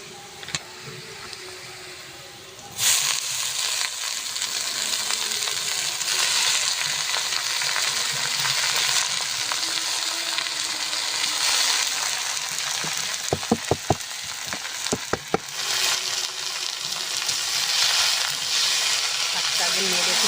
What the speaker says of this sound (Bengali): সমস্ত কিছু উপকরণ দিয়ে সুন্দর করে ভাজা হয়ে গেছে শাকটা